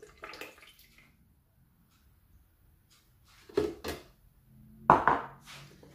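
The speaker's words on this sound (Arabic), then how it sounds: "غادي ندير هنايا الزيت" Cooking oil poured into a pot at the start of making chebakia: a short splashy pour and light clatter up close, then quiet, then two more brief liquid bursts near the end.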